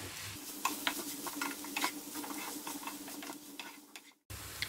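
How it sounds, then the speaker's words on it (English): Soya keema being stirred in a pan while frying, with a soft continuous sizzle and scattered scraping ticks from the spoon, close and fairly quiet, broken by a short pause near the end. "Now I'll be adding the soya keema. Mix everything well."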